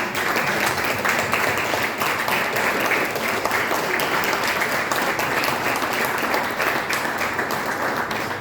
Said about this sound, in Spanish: que se ponga de pie Marina Díaz para darle un fuerte aplauso